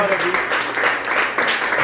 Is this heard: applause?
yes